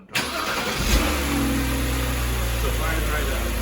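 A BMW 3 Series engine cranks briefly and starts up close by, then settles into a steady, loud idle hum.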